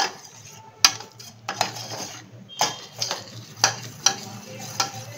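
A spoon stirs a mango pudding mixture in a bowl with repeated sharp clinks and scrapes against the sides, an irregular rhythm up close over a quiet background.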